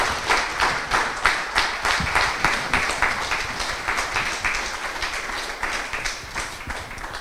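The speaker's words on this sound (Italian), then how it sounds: "Un applauso a tutti." An audience at an evening event applauds, many hands clapping together in a steady rhythmic beat that holds through the whole stretch and slowly softens, fairly loud with no voices over it.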